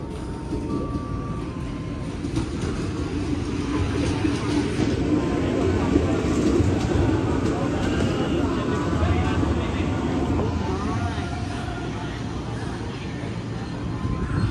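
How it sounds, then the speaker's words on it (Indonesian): Japanese-built and Dutch-era KRL electric trains pass each other at a centennial KRL parade, a steady loud rumble and rolling clatter of rail cars running for the whole stretch, with voices talking over it. "Papasan antara KRL Jepang dan KRL Belanda."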